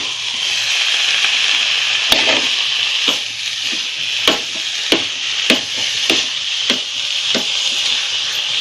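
Puran, a sweet lentil filling, is stirred and dried in a pan on the stove, giving a steady close sizzle broken by regular sharp scraping strokes of the spoon against the pan.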